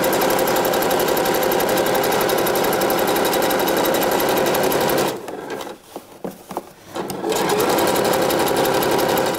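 A sewing machine runs a zigzag stitch along swimsuit lining in a rapid, steady mechanical chatter, pausing briefly midway with a few soft handling clicks before resuming at full speed.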